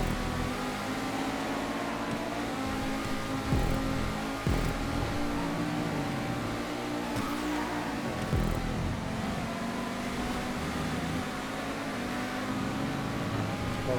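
Cars race together in GTA 5, a dense continuous drone of many engines revving and whining at once, loud and steady for the whole stretch with no voices over it.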